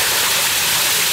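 Groundwater gushes out of a construction site in Lusaka, a loud, steady broadband rush of flowing water with no breaks and no voices.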